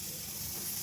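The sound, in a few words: onions frying in a pan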